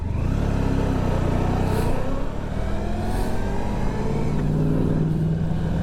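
A 1994 Honda ST1100 touring motorcycle rides steadily along a road, its engine droning loud and close with shifting pitch as it accelerates, wrapped in constant wind rush and no talking.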